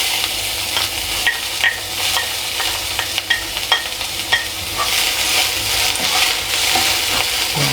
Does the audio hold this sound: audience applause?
no